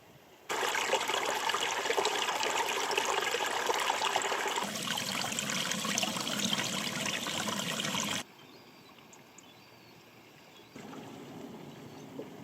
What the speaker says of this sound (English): I have the sound of the sea with me all the way here, really soothing